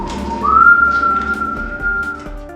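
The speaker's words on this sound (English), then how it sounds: "whistling the Savior's tune." Someone whistles a sustained, wavering melody line, clear and fairly close, with no talking.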